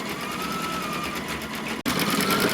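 A quilting embroidery machine stitches stems and leaves in green thread, a steady fast mechanical whir running close and continuous, with one brief dropout near the end before it resumes.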